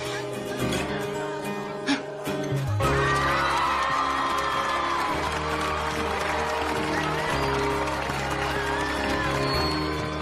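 A festival crowd applauds and cheers for the newly crowned king of the Strawberry Festival, with steady clapping, scattered whoops and shouts over a sustained musical backdrop, loud and continuous for the whole stretch after a brief quieter start.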